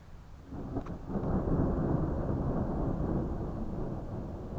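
Deep thunder rumbles low and sustained, a long rolling roar swelling and holding steady with faint rain behind it.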